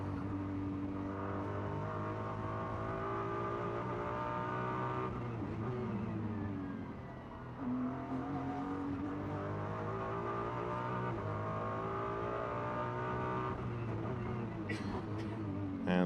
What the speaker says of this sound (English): And the Ferrari down towards Police makes the climb up the other side.